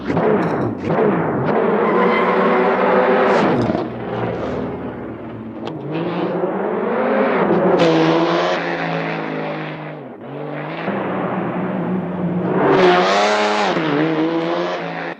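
A car engine in the racing game Assetto Corsa revs up and down continuously, its loud, rising and falling pitch sustained throughout with no one talking.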